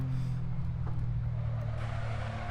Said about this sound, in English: we're gonna do the stock Supra on semi-slicks, trying to get these corners right